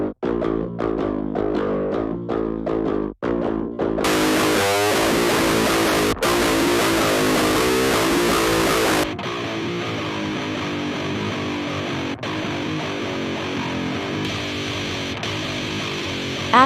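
Heavily distorted electric guitar through a cab simulation plays chugging chords, then a dense roaring wall of sound, followed by a thinner sustained distorted tone, loud and close.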